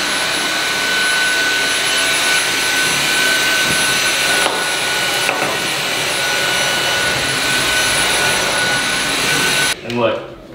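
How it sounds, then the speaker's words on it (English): A vacuum cleaner roars steadily at close range, sucking up a large amount of pet mess, before cutting off abruptly at the end. "This already filled up the entire vacuum cleaner."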